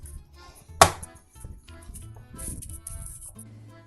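Guava bread dough is kneaded and beaten by hand on a table, with one sharp slap followed by softer, irregular thumps of close handling.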